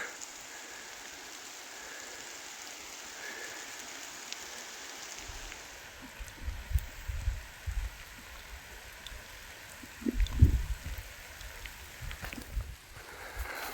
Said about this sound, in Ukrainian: Тут легенький дощик накрапує